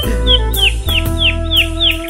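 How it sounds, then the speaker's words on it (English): A canary chirps repeatedly in quick, bright, rising-and-falling notes, close and clear over a steady low hum in the room. "I did manage to grab myself the canary while I was in there."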